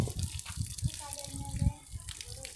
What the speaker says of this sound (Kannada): ಇನ್ನೇನು ನೀರು ಹಾಕಿ ನೋಡ್ರಿ